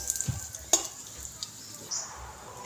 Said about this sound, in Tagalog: Liit lang kasi ng pan natin kaya natagalan tayo sa pag fried nitong mga to.